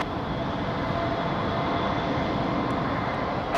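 A steady, broad roar of a jet airliner on landing approach to runway 23 right at Raleigh Durham International Airport at night, loud and constant with no breaks.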